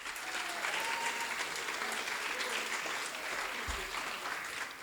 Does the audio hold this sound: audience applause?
yes